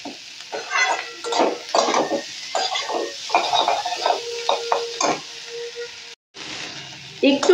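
Flattened rice pulao with turmeric being stirred and fried in a pan, giving repeated scraping and clattering strokes of a utensil against the pot over a soft background sizzle, close and fairly loud.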